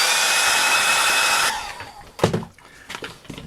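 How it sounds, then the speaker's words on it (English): A hair dryer blows loudly and steadily on a paint-wet mushroom drawing, then cuts off after about a second and a half, leaving a few close knocks and handling rustles. "Now I'm just going to do a little bit more drying."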